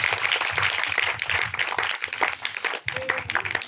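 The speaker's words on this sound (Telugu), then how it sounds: "ఇంకోసారి చప్పట్లు కొట్టండి అందరూ గట్టిగా." A crowd claps together in a dense, sustained round of applause, with a brief dip before the clapping resumes.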